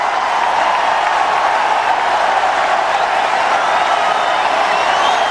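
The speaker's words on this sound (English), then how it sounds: "And the crowd really appreciate it." A cricket stadium crowd at a one-day international in Guwahati applauds a batsman's fifty with steady, loud, sustained clapping and a roar that holds evenly throughout.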